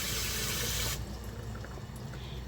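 Tap water runs hard over soaked mung beans being washed for ginisang monggo in a home kitchen, then cuts off abruptly, leaving quieter drips and light handling sounds.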